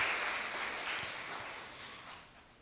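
A worship congregation claps together in sustained, dense applause that fills the space and slowly tapers off toward the end, with no voices standing out.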